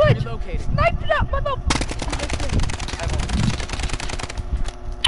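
Rapid video-game gunfire crackles in a dense burst of shots, loud and close, while players talk over it.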